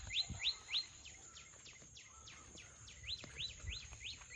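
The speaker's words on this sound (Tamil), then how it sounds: "இந்த குயில் கத்துற சத்தம் சூப்பரா இருக்கும்" Asian koel calling in a watermelon garden: a run of rising whistled notes repeated in quick rhythmic succession, moderately near and clear over quiet outdoor background, with a few soft thumps.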